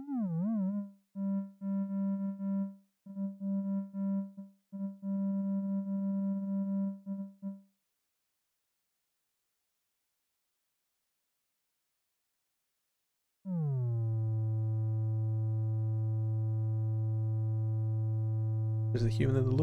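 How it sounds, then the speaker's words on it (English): Synthetic audio feedback tones for a robotic arm simulation: a pure, steady hum-like tone that pulses in short stuttering bursts, a long silence, then a lower sustained tone gliding down into a constant drone, ending with a brief click. "You should now hear a much more pleasant and informative audio feedback that helps you understand the arm's state without being annoying."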